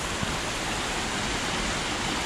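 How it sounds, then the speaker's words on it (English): A waterfall on the Langtang trek in Nepal roars as a loud, steady, broadband rush of falling water that fills the whole clip without letting up. "Nice waterfall."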